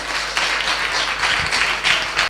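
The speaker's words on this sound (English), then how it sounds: "Let's give them a warm round of applause." Audience applause breaks out for a Member of Parliament at a youth forum in St. Ann, a steady dense clatter of many hands filling the whole stretch without any talking.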